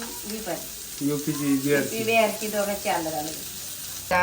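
Fish pieces fry in a hot pan with a steady, moderately loud sizzle that runs throughout, while voices talk indistinctly over it.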